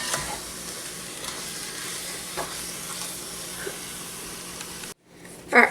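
Sweet Italian sausage browning in a pan for lasagna meat sauce, a steady close sizzle with occasional soft knocks from a wooden paddle, a short pause, and a sharper scrape at the end; no one speaks.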